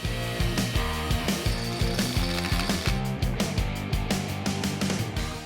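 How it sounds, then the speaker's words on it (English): A tap cuts threads into the oil galleries of a Windsor engine block for pipe plugs, giving repeated rhythmic metallic ratcheting clicks at a steady pace, close and fairly quiet. "We are tapping the oil galleries that had press-in plugs in favor of threaded pipe plugs."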